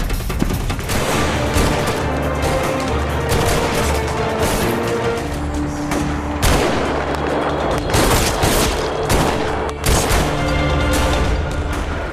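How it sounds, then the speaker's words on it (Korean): Rapid gunfire from snipers and a chaotic attack at an event venue in the Korean drama Iris, dense bursts of shots and booms layered over a loud dramatic music score, continuous and intense. "승희가 저격수들을 죽인 총성이었습니다"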